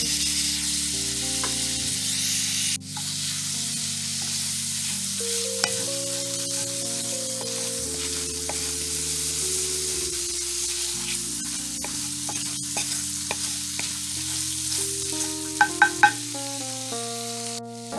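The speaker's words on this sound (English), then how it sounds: "add our 2 tablespoons of butter to the same pan. And also our minced garlic. And we're just going to saute that for 1 minute." Butter and minced garlic sauté in a pan with a steady, soft sizzle and occasional stirring, partly under background music for about eighteen seconds.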